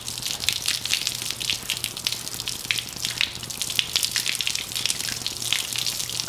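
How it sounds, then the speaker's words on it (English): A whole bottle of water pours steadily onto a waterproofed car carpet floor mat, a continuous close splashing gush that runs the full length without talk. "I'm just dumping this water on the mat."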